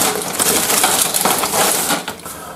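Rustling and crinkling as a hand digs through a plastic bag of Wago push-in cable clamps rated 400 volts, a continuous close crackle for a couple of seconds with no voice.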